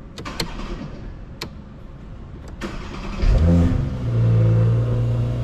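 A car engine turns over after a few clicks, then roars to life with a loud rev and settles into a deep, steady idle up close.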